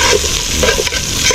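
Ingredients sautéing in a pan for a Filipino home-cooked dish, a dense continuous sizzle with scraping stir strokes, close and loud throughout.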